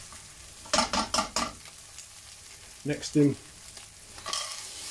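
Egg sizzling and being stirred in a hot pan while cooking Chinese-style pork fried rice, with quick scraping strokes in short bursts over a steady frying hiss and a brief word spoken.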